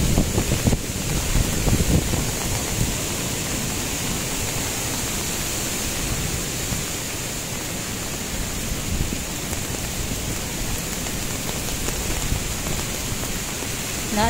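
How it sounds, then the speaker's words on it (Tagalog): Strong wind from Typhoon Uwan roars continuously out at sea, a broad rushing noise buffeting the microphone with a sea-like wash, loud and unbroken throughout. "Sobrang lakas pa rin ng hangin."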